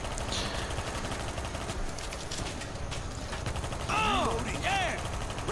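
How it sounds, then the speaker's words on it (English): Continuous rapid gunfire rattles through a World War Z zombie-shooter game level in New York, forming a dense, steady barrage with a few brief swooping effects near the end. "I wonder if the helicopters hear this gunfire"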